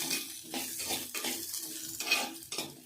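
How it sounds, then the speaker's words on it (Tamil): Coconut pieces sizzle and crackle as they fry in oil in a pan while a utensil stirs and scrapes in bursts, close and steady throughout. "தேங்காய் நறுக்கி வச்சிருக்கிறேன், அதை போட்டு அப்படியே அதை வறுத்து எடுத்துக்கலாம்"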